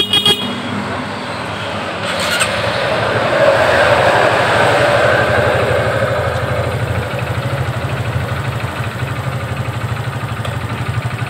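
A Honda Supra X 125 FI motorcycle with a sputtering, stalling fault starts up and idles nearby, settling into a steady low engine drone after a short burst of starting noise.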